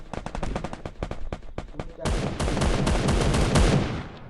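Gunfire in the video game Free Fire: rapid separate shots at first, then a dense continuous burst of automatic fire, loud and close with no talking.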